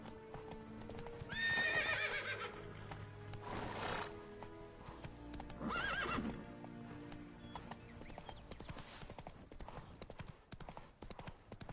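Roach, Geralt's horse in The Witcher 3, gallops with rapid, close hoofbeats, and loud whinnies break out early and again midway, over a bed of game ambience.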